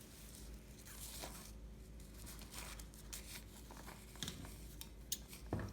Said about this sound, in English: I'm gonna trim my tail at an angle.